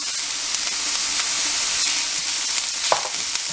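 Minced garlic fries alongside onion in a pan while cooking pepper roti, giving a loud, even hiss of sizzling with a few stirring scrapes.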